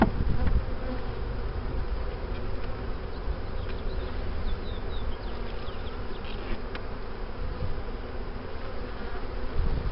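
Honey bees buzz steadily at an open hive during an early-April inspection, a dense, continuous swarm drone holding at even loudness throughout with faint higher insect whines flitting over it.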